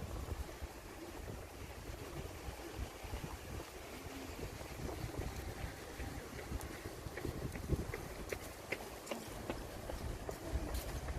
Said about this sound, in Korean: 바람 살살 부네요